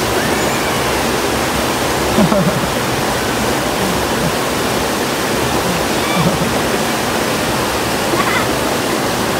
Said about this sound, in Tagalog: Lakas ng agos niyan.